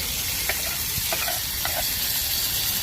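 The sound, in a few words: ghee poured over raisins sizzling in pan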